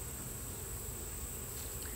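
Honey bees buzz in an opened hive that may hold a laying queen, a steady continuous drone filling the whole stretch with a faint high whine above, no voices.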